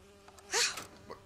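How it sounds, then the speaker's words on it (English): A bee buzzing in the video game Bioshock Infinite, with a short, close, fairly loud buzz that swells and fades within about a second. "It's a bee. I hate these things."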